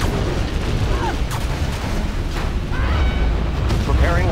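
Tomahawk missiles launch in the strategy game Command & Conquer Generals with deep booming blasts and rumbling bursts, mixed with other in-game sound effects.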